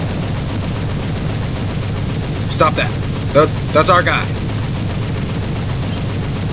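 Biplane machine guns firing in the video game War Thunder, a few short bursts of rapid rattling shots near the middle, set against a steady engine drone, with someone talking at the same time.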